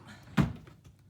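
A storage drawer in a craft room is pulled open with a single short wooden thunk and slide, close and fairly loud, fading quickly against a quiet room.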